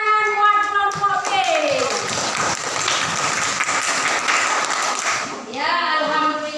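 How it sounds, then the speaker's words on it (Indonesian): A classroom applauds group B with a burst of many hands clapping, loud and continuous for a few seconds. Voices can be heard just before and after the clapping. "Tepuk tangan buat kelompok B"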